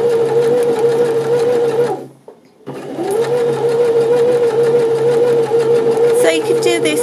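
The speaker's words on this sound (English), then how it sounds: "And we'll just stitch this around here." A Janome 725s sewing machine stitches a jersey hem in a loud, steady whirring run that stops briefly for about half a second, then resumes and carries on to the end.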